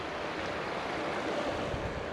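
Water flows in a creek beside a wooded game trail: a steady, fairly close broadband rush with no pauses and no voices.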